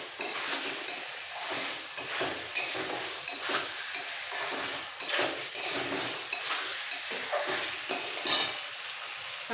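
Cauliflower, potato and peas fry and sizzle steadily in a pan while a utensil stirs and scrapes through them in repeated close strokes, with no voices.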